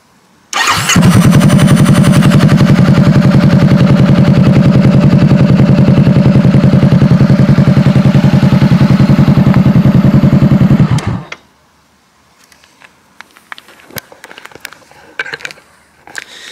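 A 2018 Honda CB500F motorcycle engine starts up abruptly and settles into a loud, even idle for about ten seconds before cutting off, leaving faint clicks and small sounds afterward.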